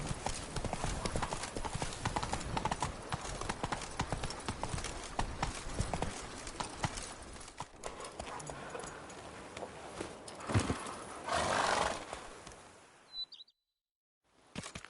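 Galloping horse hooves in The Witcher 3 on PS4, a fast, continuous clip-clop of hoofbeats with game ambience and occasional birdsong, ending abruptly in near silence.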